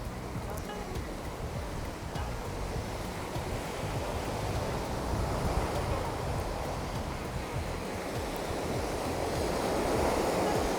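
Ocean surf washes continuously onto a sandy beach in Punta Cana, a broad rushing roar that swells slightly louder toward the end, with some wind buffeting.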